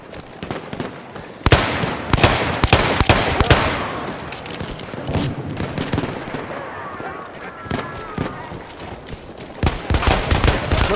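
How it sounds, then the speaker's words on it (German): Battlefield 1 combat with rapid bursts of machine gun fire and scattered gunshots, loud and close, crackling in dense volleys with brief pauses, while voices talk over the shooting. "Maschinengewehr, eindeutig feindlich."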